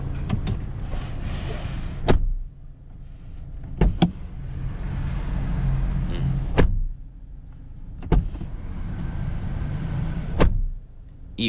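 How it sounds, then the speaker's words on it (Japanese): A series of solid car door thuds from a 2019 Mazda3 Fastback, several spaced closings a couple of seconds apart, with an electric window motor whirring between them. "マツダドア閉めた音にもね、こだわりを持っているそうです"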